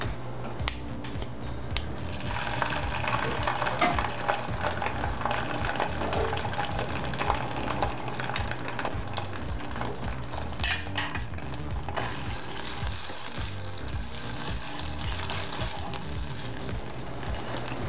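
Tomato purée sautéing in oil in a small pot gives a continuous bubbling sizzle with scattered pops and utensil clicks throughout.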